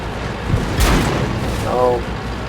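A single heavy boom from a tank shell exploding in the World of Tanks video game, loud and close, followed by a softer rising mechanical whine amid steady game noise.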